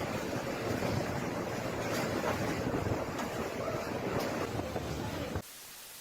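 Typhoon storm surge waves and gusting wind roar continuously, a dense rushing wash of surf and wind buffeting the microphone, cutting off abruptly near the end.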